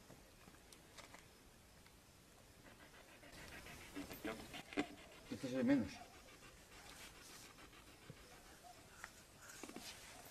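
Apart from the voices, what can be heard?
agitated dogs panting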